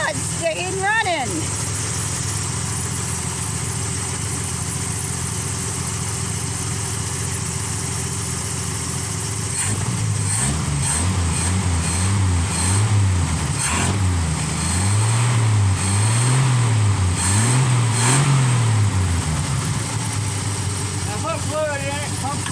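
A 1966 GMC truck engine idles steadily after starting, loud and close, with its pitch rising and falling in a series of revs midway while people talk over it.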